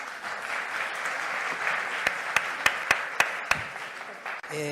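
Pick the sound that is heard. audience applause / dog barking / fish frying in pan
audience applause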